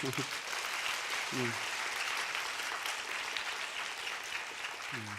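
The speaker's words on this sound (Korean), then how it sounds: "박수 한번 힘차게 칩시다" A church congregation applauds steadily at a Sunday worship service, a continuous wash of clapping with brief low voices breaking through at moments.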